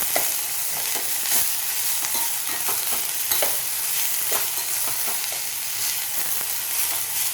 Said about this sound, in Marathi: पालक व्यवस्थित आपण मिक्स करून घ्यायचं